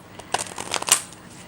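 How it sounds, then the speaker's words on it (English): A deck of tarot cards is shuffled in a quick series of soft riffling flutters and taps, close and fairly quiet, lasting about a second. "I had to like split the deck in half and then shuffle like one half at a time"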